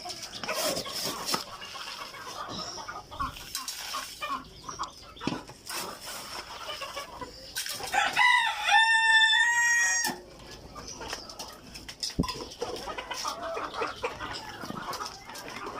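Egyptian Fayoumi chickens cluck in scattered bursts while feeding, and a rooster crows loudly once midway, rising and falling over several seconds against the flock's busy background.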